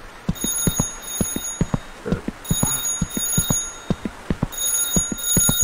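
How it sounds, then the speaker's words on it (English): A telephone rings in a horror video game, bursts of rapid electronic trills separated by short pauses, loud and close, with faint game ambience underneath. "The phone again."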